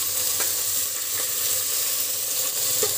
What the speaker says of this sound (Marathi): ते पण ह्या कांद्यावर आपण परतून घेऊया